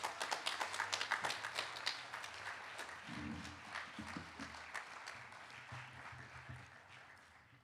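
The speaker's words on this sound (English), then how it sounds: "Round of applause for Rui." A school speech day audience applauds an award recipient. The clapping is fairly faint and thins slowly, with a few distinct taps and soft background rustle.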